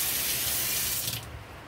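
Cold water runs steadily from a kitchen tap, a loud, close, continuous hiss and splash that eases off slightly near the end, with no voices.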